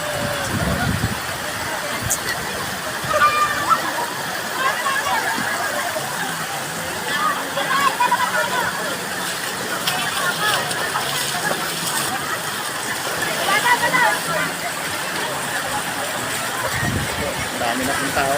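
A cold river at Baler swimming spot, crowded with bathers on Easter Sunday: a steady broadband rush of flowing water runs throughout, mixed with distant crowd babble and occasional nearby voices.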